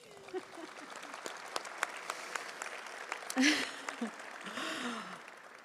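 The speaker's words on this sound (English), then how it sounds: "Pause for applause." Audience applause at a memorial celebration of life for an LSU baseball coach, a steady patter of clapping with scattered sighs and murmurs from the crowd, fairly faint and distant throughout.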